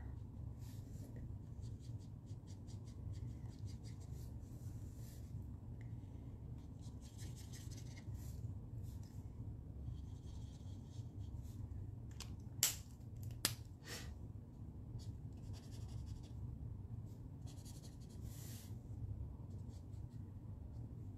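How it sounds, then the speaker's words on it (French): Markers color in a Stampin' Up! Christmas card with non-traditional colors, making soft, steady scratchy strokes in bursts over a low room hum, with a couple of sharp little taps partway through. "c'est long pour vous autres de me voir colorier"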